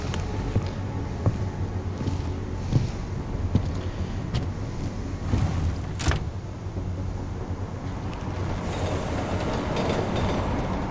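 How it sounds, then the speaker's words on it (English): A train ride in the video game Deus Ex: Mankind Divided: a steady rumbling rail-car drone with clicks and rattles, loud and continuous throughout. "There we go, on the train."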